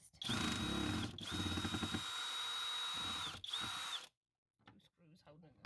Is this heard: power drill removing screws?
yes